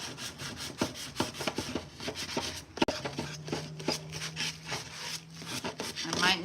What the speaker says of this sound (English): I'm just gonna come in and sand this and give it a little chippy vibe going on.